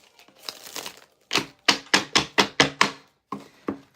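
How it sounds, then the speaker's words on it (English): Tarot cards are shuffled by hand, producing a quick run of sharp papery snaps and slaps, about eight crisp close strikes in a loose rhythm after some softer rustling. "Let's shuffle these so we ready to go."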